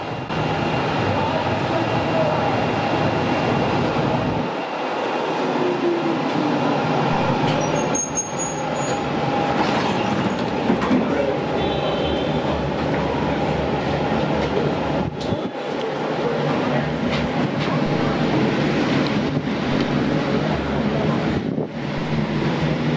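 A Melbourne Z3 class tram on Route 16 rolls past with a steady rumbling and clattering of wheels on rails, a brief high squeal partway through, and wind buffeting the microphone.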